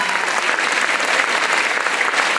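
A concert hall audience applauds at a philharmonic season opening, a loud, dense, even sheet of clapping from many hands without voices.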